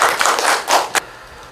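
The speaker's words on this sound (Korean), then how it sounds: "큰 박수 부탁드립니다." Audience clapping at an art museum artist talk show, a brief burst of applause that swells and fades within a second and a half, ending with a last sharp clap.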